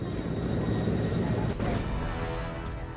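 An Air Force helicopter hovers over a flood rescue, giving a loud, continuous engine and rotor roar that stays close and steady, with some background noise.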